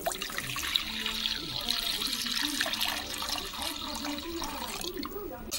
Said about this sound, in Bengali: এবারে আমি দুধটা দিয়ে দিচ্ছি।